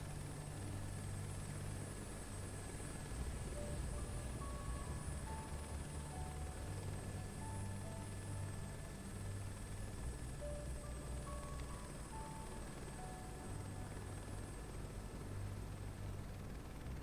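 An Airbus H125 helicopter flies in Microsoft Flight Simulator 2024, a steady loud rotor and turbine drone with a low thumping pulse and a faint high whine, heard alone.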